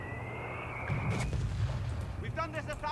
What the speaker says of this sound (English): They have mortar as well.